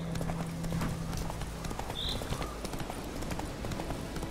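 Horse hooves clip-clopping at a steady gallop in The Witcher 3 on a roadside path, continuous rhythmic thuds under game ambience.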